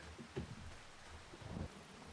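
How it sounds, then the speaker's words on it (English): Steady rain hisses in the Farming Simulator 25 video game, a soft, even wash of falling water with a couple of faint low rumbles, quiet and continuous with no talking. "let's go and get ourselves a coffee and just shelter from this rain"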